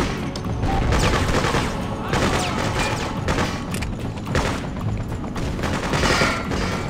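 Sustained gunfire in the video game Freedom Fighters, a dense fusillade of rapid overlapping shots with heavy thumps, loud and continuous for several seconds with no talking.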